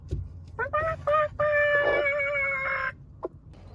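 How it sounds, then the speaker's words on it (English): An angry broody hen gives loud, drawn-out squawking clucks in several bursts, close and clear, with brief talk at the start and end. "she's a really unhappy chicken"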